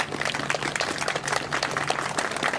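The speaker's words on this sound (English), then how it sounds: "You can hear folks clapping now." Scattered outdoor clapping from people gathered in tribute to a fallen Capitol Police officer, fairly soft and steady with faint background noise and no talk.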